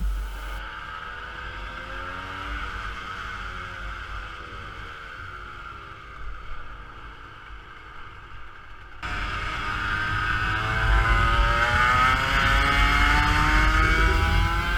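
A race car engine whines with shifting rising and falling pitch as the car enters the pit lane. It grows noticeably louder and denser partway through, with no voices over it.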